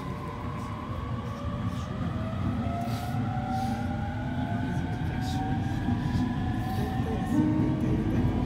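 An E231 series commuter train with updated equipment pulls away from a stop, its traction motors whining upward in rising tones over a steady rolling rumble inside the car.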